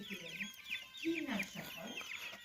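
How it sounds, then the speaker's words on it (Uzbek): A rooster clucks in short, repeated bursts close by, with other birds chirping in the background. "Hozir Qozog'istondan kelgan bitta xo'roz bor."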